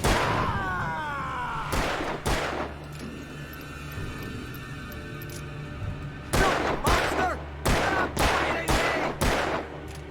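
Sharp video game gunshots in Alan Wake, a pair of close, loud reports followed by a rapid cluster of several more, each punching out over a low steady hum.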